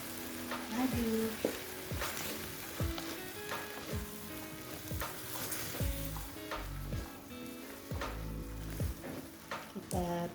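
Shrimp stir-fry with kaffir lime leaves and salt being stirred in a sizzling pan, a steady frying hiss under repeated scraping strokes of the utensil against the pan, close and fairly loud, with a few short bursts of stronger scraping.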